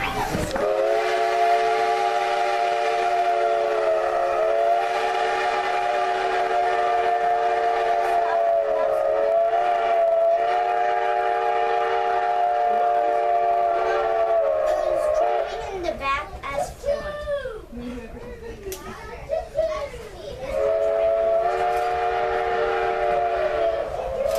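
A museum electric traction train rumbles along steadily with a sustained tonal horn-like drone, close and loud, with a brief rattling, squealing stretch before the steady tone returns.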